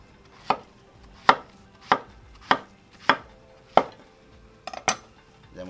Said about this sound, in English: Now I'm just going to cut these into small pieces and put them in my boiling water.